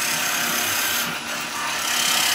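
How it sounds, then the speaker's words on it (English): A skew chisel shaves a wood surface on a lathe, giving a continuous bright, hissing scrape that stays loud and close throughout with only a slight dip midway. "Let's give that a clean up with the skew."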